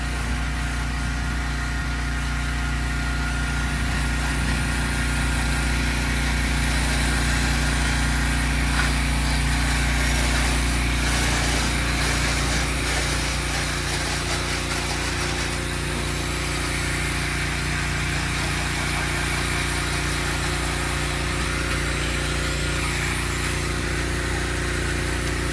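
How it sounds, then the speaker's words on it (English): A truck engine runs steadily nearby, a loud, continuous mechanical drone with a constant pitch and no pauses for the whole stretch, with no talk. "Probably going to be a bit noisy here because I'm right by the truck."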